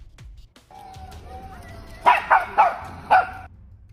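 Several dogs bark in short, loud bursts at a troop of monkeys, about four sharp yelps clustered together after a stretch of quieter background noise with a faint tonal whine.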